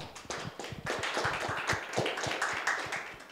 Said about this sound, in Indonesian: mari kita beri tepuk tangan yang meriah untuk PPI Ankara